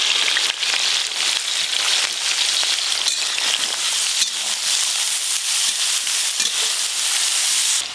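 Slit green chillies are stirred with spice paste in a hot frying pan, giving a loud, continuous close sizzle with stirring scrapes and no voices.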